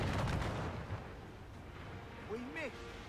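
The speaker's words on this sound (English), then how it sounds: "I'm getting hit with mortars" Mortar fire hitting a ship during a naval battle in Assassin's Creed Rogue, heavy booming bursts at the start followed by a rumbling tail and a couple of whistling tones near the end.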